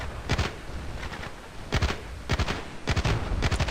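Submachine gun fire in the Battlefield Play4free shooter game, fired from the hip at close range: several sharp automatic bursts, loud and near, with short pauses between them.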